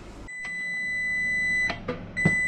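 Several sustained electronic beeps from an oven timer ring out, a steady tone that stops, returns, and ends with a few short clicks and knocks nearby.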